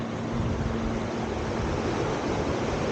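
Sea waves wash against the shore at a fish sanctuary in Maragondon near an old pier, a steady broadband rush of surf mixed with wind buffeting the microphone, continuous and fairly loud with no voices.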